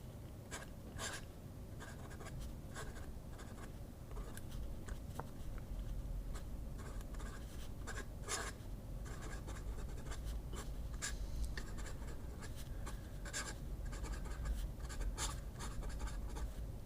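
A cheap flex nib pen writes on a paper pad with soft, close scratching strokes that come in repeated bursts, faint and steady, with no voices.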